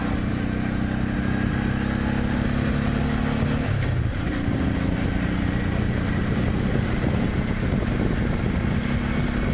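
A motorcycle riding through scorching heat toward the Mediterranean coast of Europe, its engine droning steadily under heavy wind roar, with a brief dip in revs midway as if shifting gear, and no talk.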